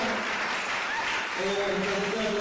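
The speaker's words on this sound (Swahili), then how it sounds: "Mpige makofi" A church congregation clapping together in steady, dense applause that carries on throughout, with a voice talking over the clapping.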